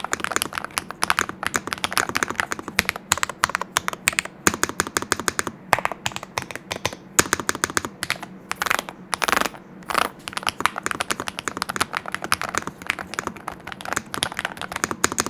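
Rapid typing on an Epomaker G84 HE Hall effect keyboard produces a dense stream of sharp, close keystroke clicks with brief pauses and occasional louder spacebar-like thocks.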